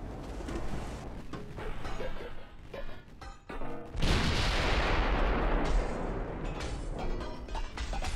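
Warship artillery in the naval battle game Ultimate Admiral: Dreadnoughts fires in heavy booming salvos over a dense rumble, and one massive blast is followed by a long roaring wash of noise. No one talks.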